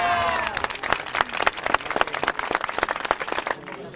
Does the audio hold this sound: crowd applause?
yes